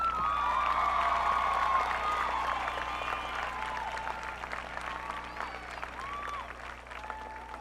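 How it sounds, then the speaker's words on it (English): A high school graduation crowd claps steadily for a valedictorian, with scattered whoops and cheers rising above the clapping, gradually fading over several seconds. "Let's give him another hand of applause"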